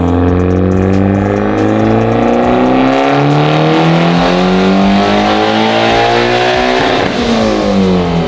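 Mitsubishi Evo X engine revving hard on a dyno pull on wastegate boost and pump gas, a loud continuous rising roar with climbing harmonics that peaks and drops off near the end.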